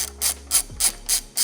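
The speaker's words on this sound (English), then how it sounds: "Take out this 10mm bolt." A hand ratchet works a 10mm bolt loose on a Toyota 4Runner, five evenly spaced bursts of sharp clicking from the pawl, close and clear with no talk.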